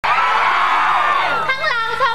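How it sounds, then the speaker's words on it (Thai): A Thai concert audience screams and cheers loudly for a live fusion band show, a dense, sustained roar of high-pitched shrieks and whoops filling the venue. "ร้องมาตั้งหลายเพลงแล้วขอเสียงกรี๊ดหน่อยสิจ๋า"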